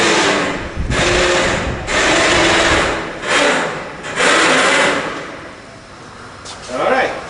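An electric winch hoists a hang glider wing, its motor whining loudly in several bursts that start and stop, each run lasting about a second, with short pauses between them.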